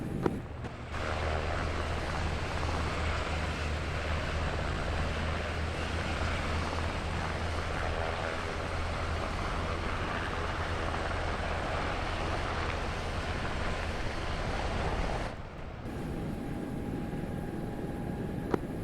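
A helicopter landing and spooling down during a military training exercise, heard as a loud, steady rotor and engine roar that holds for most of the stretch, then drops and changes near the end, with no talking.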